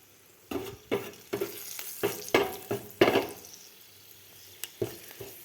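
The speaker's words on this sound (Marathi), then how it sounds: "आपल्याला सोयाबीन बनवायची आहे फ्राय करलेली" Soybean chilli frying in hot oil crackles and sizzles in bursts, with repeated scraping stirs of a spatula against the pan at an irregular rhythm, close and fairly loud, no talk.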